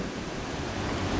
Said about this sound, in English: some nice waves coming in.